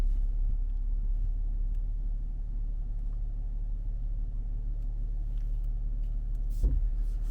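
Land Rover in sand off-road mode, its engine giving a steady low idling rumble close by through the cab, with a brief thump near the end.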